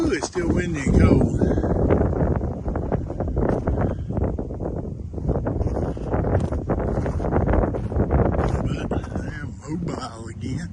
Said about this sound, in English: Ooh, it's still windy and cold.